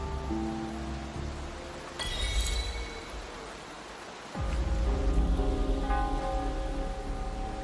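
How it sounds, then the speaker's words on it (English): Rain pours down in the video game Wuthering Waves as a continuous broad hiss, mixed with game music and tonal effects that surge loudly around two seconds in and again after four, with no speech. "This rain, it's finally happening."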